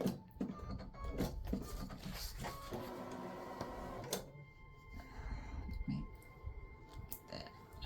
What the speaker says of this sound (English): Then it'll stitch the grid, the tic-tac-toe grid.